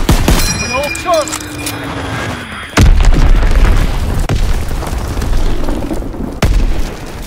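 Air strike bombs bursting in the World War II shooter Call of Duty WW2, heavy booms and rumbling blasts over continuous battle noise, with in-game voices calling out beneath.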